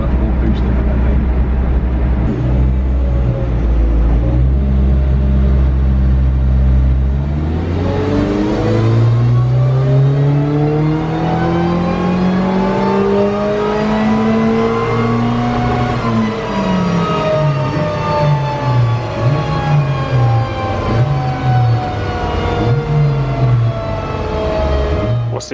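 A stock Mazda MX-5 Miata with the BP 1.8-litre engine revs up on a dyno, rising to a loud sustained pull, then easing off with wavering throttle under steady running noise; voices speak nearby.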